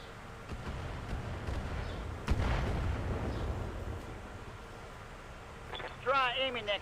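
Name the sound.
turret firing in a BattleTech video game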